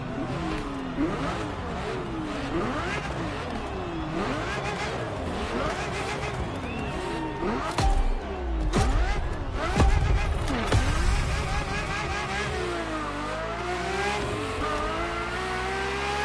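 Ferrari F50 engine in The Crew Motorfest racing game, revving up and down through repeated gear shifts with rising and falling pitch, a sustained loud drive with a heavier low rumble midway.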